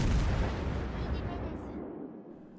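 Heavy naval gun salvo from the Des Moines cruiser in World of Warships: Legends, a loud booming blast at the start that rumbles and slowly decays over a couple of seconds.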